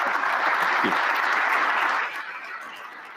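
Steady audience applause, dense and loud, easing to a softer patter in the last second.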